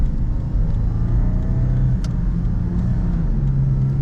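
A car's engine runs in ECT power mode, a sport setting for extra power, building toward 3,500 RPM. It gives a steady, fairly loud, low rumble that rises and falls slightly, as if revving.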